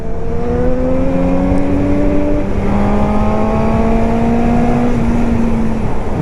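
A Suzuki GSX-S 750 motorcycle with its stock exhaust drones loudly and continuously, the engine pitch rising and falling through revs up close with no talking.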